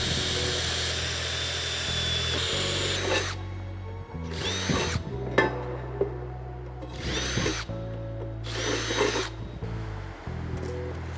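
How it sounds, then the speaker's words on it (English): Power drill boring 5mm holes in plastic trunking end caps, several short bursts of whining motor separated by pauses, close and clear with faint handling noise between. "I'm just doing a 5mm hole for these 4mm screws"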